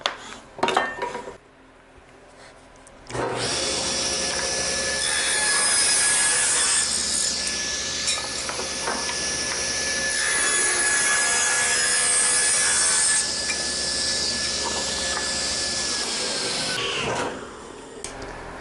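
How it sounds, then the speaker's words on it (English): Table saw ripping a bevel along a wood blank, a steady loud high whine with a rasping cut that holds for about ten seconds after spin-up, then winds down. "it's a matter of just ripping this bevel on both sides of all the blanks"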